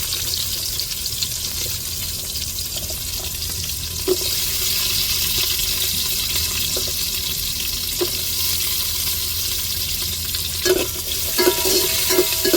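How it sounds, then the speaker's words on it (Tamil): Small shallots and large onions frying in oil in a pan, a steady bright sizzle with occasional scrapes and taps as they are stirred, close and continuous. "இப்போ வெங்காயத்தை சேர்த்துக்கிடுவோம் சின்ன வெங்காயம் கொஞ்சம் பெரிய வெங்காயமும் சேர்த்துக்கிடுவோம்"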